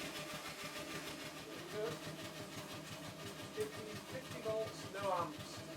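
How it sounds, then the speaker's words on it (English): A large model showman's traction engine runs on air from a feeble compressor, giving a faint, quick, even chuffing rhythm with some mechanical whirring, heard alone at low level. "My compressor is very feeble, so I can only run it at this speed that you see on the video for about 6 seconds."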